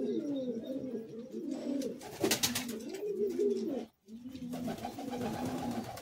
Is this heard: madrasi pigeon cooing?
yes